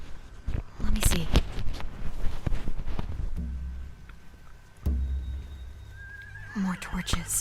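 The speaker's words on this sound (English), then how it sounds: "They have horses." Horses in The Walking Dead video game whinny and snort amid scattered clattering and movement sounds, with a rising neigh near the end; game-like ambience throughout.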